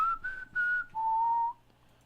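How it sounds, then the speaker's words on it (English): A single person whistles a short melodic phrase of three rising held notes, then one lower sustained tone, clear and close with brief gaps between notes and nothing else heard. "The opening notes of this song are exactly like the whistling from the movie Hunger Games."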